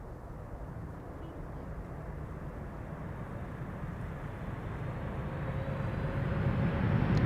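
An airliner roars on landing at Amsterdam Schiphol as its thrust reversers spool up, a broad distant rumble that swells steadily louder and nearer.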